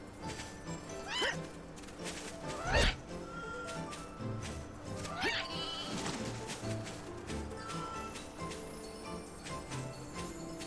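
Sheep bleat several times in the video game Lightning Returns: Final Fantasy XIII, sharp wavering cries rising over a busy layer of game music and effects, one loud bleat standing out near the middle.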